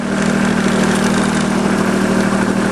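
A tractor engine idles loudly and close by, a constant rumbling drone with a steady hum and no change in pace throughout.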